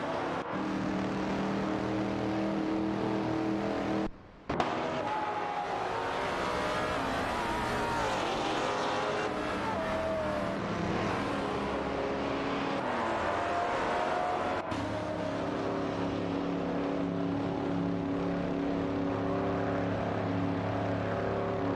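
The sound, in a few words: race cars racing in a video game, Chevrolet Corvette and Oldsmobile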